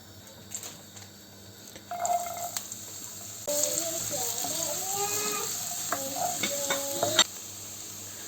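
Onions sizzle in hot oil in a pan amid clinks and stirring scrapes, with faint watery trickling and brief muffled sounds in between.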